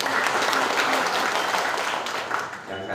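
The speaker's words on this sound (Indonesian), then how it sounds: "Tepuk tangan untuk Tri Mulyaningsih." Sustained applause from an audience at a Pemuda Pancasila women's wing branch congress in Banyumas, steady dense clapping filling the room at close range with no speech over it.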